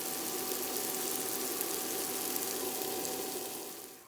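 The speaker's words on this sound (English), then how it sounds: "I'm going to stir this in and let this cook for a little bit longer until the onions are nicely caramelized." Onions and baby bella mushrooms sauté in a pan, caramelizing for a green bean casserole, giving a steady, even sizzle with soft crackle throughout, close and moderately quiet, with no voices.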